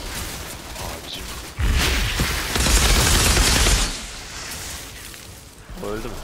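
Gunfire and a blast in the shooter game Outriders, a rapid fusillade rising into a loud, roaring explosion that fades into rumbling debris, with a faint voice near the end.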